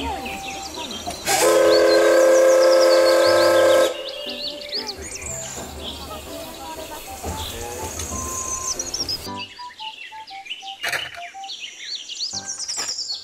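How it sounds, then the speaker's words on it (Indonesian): A toy Thomas the Tank Engine train whistles and rumbles along amid bright electronic chirps and beeping tones, with a sustained whistle blast near the start. "kereta Thomas"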